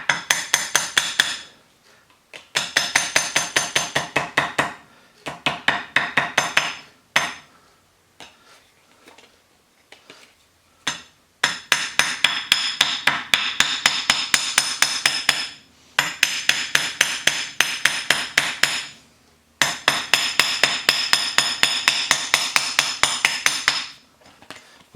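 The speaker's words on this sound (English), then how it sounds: "I'm just going to start tapping." Repeated hammer taps on a custom gasket held in a vise, delivered in several fast, steady bursts of sharp metallic knocks separated by short pauses, loud and close with no talking.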